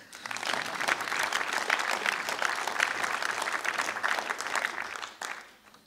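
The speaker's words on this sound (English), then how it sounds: "Give her a clap anyway." Audience at a meteorological society awards session applauds for an absent award winner, a dense, steady burst of clapping from a seated crowd that holds for several seconds before fading out.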